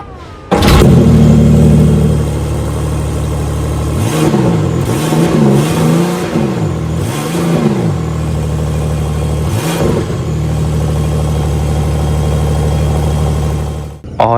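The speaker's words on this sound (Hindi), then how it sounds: "चलो कोल्ड स्टार्ट का टाइम आ ही गया है।" A car engine cranks and fires on a cold start after being washed, settling into a steady idle broken by several sharp throttle revs rising and falling, close and loud with no talking.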